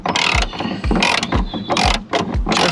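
A socket ratchet wrench clicks in repeated short bursts while working on a Tesla, loud and close with a steady back-and-forth rhythm.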